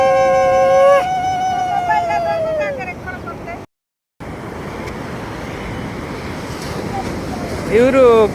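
Surf washing onto the seashore at Puri during a Kartika month ritual gathering, a steady broad roar of breaking waves that opens under a held tonal wail, cuts out briefly midway, then rolls on fairly loud.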